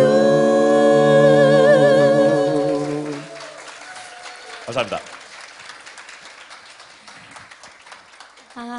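Audience applause at a 2014 closing ceremony, following a vocal group's song. A dense patter of clapping swells as the singing ends, then tapers off under a brief spoken word.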